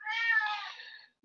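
A house cat meows once, a single drawn-out tonal cry about a second long, fairly faint and nearby in a quiet room, with no talking.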